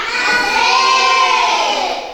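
A class of schoolchildren chants the 'tepuk semangat' routine together, a loud sustained unison of young voices in a classroom.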